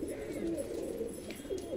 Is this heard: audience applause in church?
no